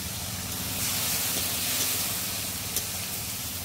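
Water poured onto hot cumin, coriander and chilli spice paste for a prawn curry, bursting into a loud continuous steamy sizzle and hiss that holds steady throughout, close up with no talk.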